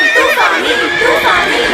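A cartoon horse gives a loud, close whinny that carries through the whole brief moment, with a voice overlapping it.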